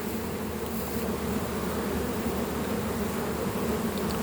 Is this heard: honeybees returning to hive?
yes